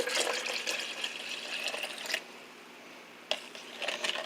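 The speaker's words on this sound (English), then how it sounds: "I'm going to start adding some water." Water runs into a pitcher holding lemon juice and sugar for homemade lemonade, a steady close splashing pour that stops midway and then resumes.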